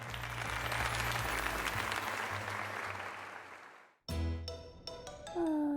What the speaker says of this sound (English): let us give another heartfelt round of applause to Super-Tournoi.